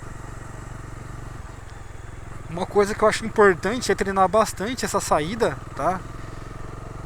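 A Bajaj Dominar 250 motorcycle engine hums at a steady, fairly low level throughout as the rider talks over it in Portuguese.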